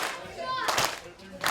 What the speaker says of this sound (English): We're going to start with a big clap.